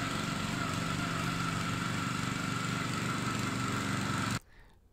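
A lawn core aerator runs across a lawn with a steady small-engine drone, loud and close, holding constant before it cuts off near the end, leaving faint background noise.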